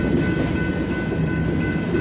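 A BNSF mixed freight train rolls past, a loud, continuous rumble and rattle of moving cars with a steady tonal whine, close by.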